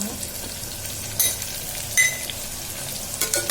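Onion, tomato and spices frying for a Konkan-style mutton curry, a constant low sizzle with three brief bursts of stirring and scraping in the pan.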